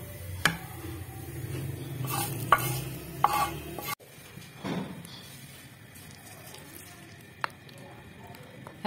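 Fried masala stirred into yogurt for a desi marinated fried chicken, with wet squelching stirs and a spoon tapping the bowl a few times, close and fairly quiet, then a softer, sparser stretch.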